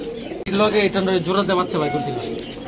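Close Indian Kaldom pigeons coo in low throaty bursts, several overlapping calls in quick succession after a sharp click.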